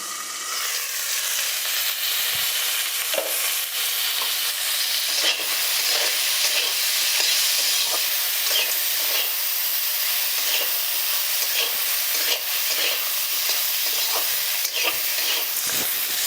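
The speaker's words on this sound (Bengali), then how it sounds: "আমি এই সবজিগুলো ভাজার সময় একটু ঢাকনা দিয়ে দিচ্ছি।" Steady frying sizzle of carrots, cauliflower and beans fills the clip, with occasional clinks and stirring scrapes from a pan, continuous and fairly loud with no talking.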